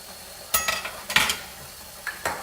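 Food browns in a pan with a soft background sizzle, punctuated by several close scraping stirs and clinks of a utensil.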